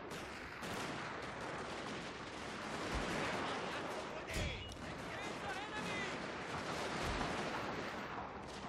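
Musket volleys crackle through a video game battle, bursts of gunfire and artillery-like booms rolling over a dense, continuous roar with faint shouting; someone talks over much of it.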